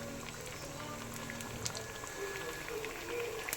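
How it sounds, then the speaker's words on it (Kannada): Sabudana vadas deep fry slowly in oil, heard as a faint, soft bubbling and gentle crackle that runs steadily, quiet and close, with no one talking. "ಸಾಬುದಾನಿ ಎಲ್ಲ ನಿಧಾನಕ್ಕೆ ಸ್ಲೋ ಆಗಿ ಇಟ್ಕೊಂಡೇ ಫ್ರೈ ಮಾಡ್ತಾ ಇರಬೇಕು"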